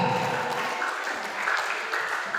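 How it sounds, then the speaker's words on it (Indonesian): A crowd applauds a team at a school quiz competition, a short burst of clapping at moderate level with no one speaking. "Tepuk tangan untuk regu A."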